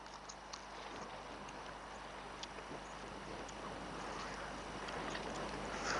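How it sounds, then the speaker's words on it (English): Gusty wind buffets an outdoor microphone, giving a constant low, quiet rumble with a faint hiss and no clear other sounds. "that wind is blowing, so I'm sorry if all you can hear is"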